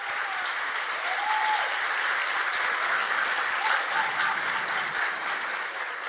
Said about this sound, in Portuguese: Uma salva de palmas para o senhor Koenig.